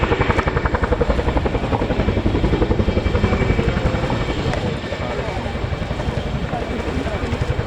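A military helicopter at the RAF Cosford airshow, manoeuvring after dropping an underslung field gun: loud, near, continuous rotor chop with a steady pulsing beat throughout.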